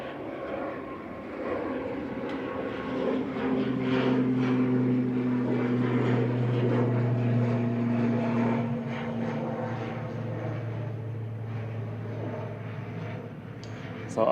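A plane taxiing at Manchester Airport gives a steady, moderately loud engine drone with a low hum that swells and slowly fades, heard at some distance across the apron with no talking.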